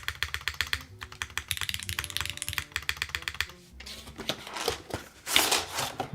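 Mechanical keyboard fitted with GMK keycaps being typed on, a close, steady clatter of keystrokes for several seconds before it gives way to softer, scattered taps and rustling.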